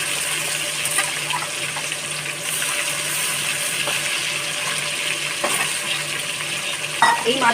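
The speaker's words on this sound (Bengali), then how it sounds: "এই মাছগুলোকেও হালকা ভেজে আমি তুলে নেব" Shankar (stingray) fish pieces frying in a pan, a continuous close sizzle with occasional clinks and scrapes, and a brief louder splash or water burst at the end.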